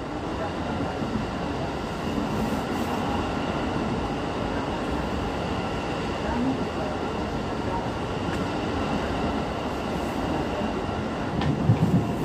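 A KRL electric commuter train, series JR 205-137, running between Manggarai and Cikarang. It makes a steady, loud rumble with rail and wheel noise heard from inside the carriage, continuous throughout with no pauses.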